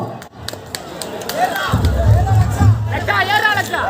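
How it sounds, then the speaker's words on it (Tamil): A wedding crowd in a hall claps and cheers as the groom enters, a burst of hand claps and murmuring voices rising midway under loud music. "கொஞ்சம் மாப்பிள்ள உள்ள கைதட்டுங்கம்மா"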